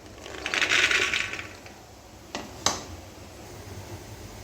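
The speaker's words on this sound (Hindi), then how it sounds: "अब इसी कुकर के अंदर हम सारे मटर को डाल देते हैं।" Dry peas pour into a pressure cooker in a soft rattling rush lasting about a second, followed by two sharp clinks and then near silence.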